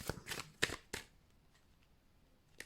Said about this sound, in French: On va regarder une carte du Dixit.